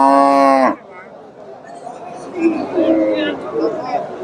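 A loud, close moo from a crossbred cow opens with a rich harmonic drone, then gives way to people talking and background chatter at a cattle market.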